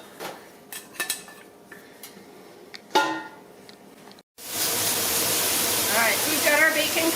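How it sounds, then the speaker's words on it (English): Four chopped bacon strips frying in a soup pot: a broad steady sizzle starts about four seconds in after quieter clinks of pots and utensils and a few faint voice sounds, then holds loud and continuous to the end. "so we've got our bacon cooking"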